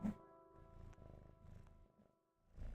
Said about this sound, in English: Oh, can you hear him meowing?